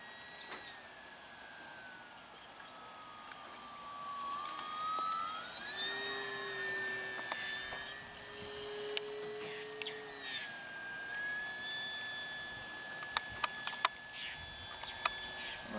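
An FMS Cessna 182 RC model plane flies with a thin electric motor whine that rises and falls in pitch as the throttle shifts, holding steady at a moderate distance over faint outdoor background noise.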